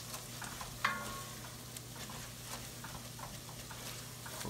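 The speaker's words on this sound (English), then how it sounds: "We're going to stir this around in here. Let this flour cook out." Flour being stirred as it cooks in a pan, a faint soft sizzle with a low steady hum beneath, one sharp clink of a utensil early on, then light intermittent stirring.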